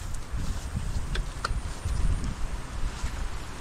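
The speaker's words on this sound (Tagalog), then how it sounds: "Paspas na paspas ang hangin na eh." Strong storm wind rumbling and buffeting the microphone in uneven gusts at a lanzones orchard after a typhoon, with faint brief clicks now and then.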